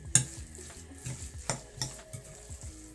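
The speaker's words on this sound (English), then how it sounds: "I'm using the spoon today. I'll mix it together." Metal spoon stirring and mixing a raw momo filling in a bowl, with repeated scraping and clinking strokes at an uneven rhythm, close and fairly quiet, no talking.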